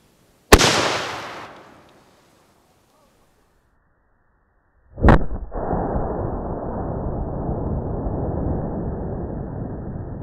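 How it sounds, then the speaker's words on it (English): A firework packed inside a hollow gourd fires with a sharp bang, followed by silence, then a second louder blast that gives way to a long, steady roaring hiss and rumble lasting several seconds. "The way I did that was by putting the firework inside a gourd"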